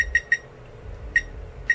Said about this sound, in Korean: 부저도 소리의 형태가 다르죠. 점점 하이톤이네요.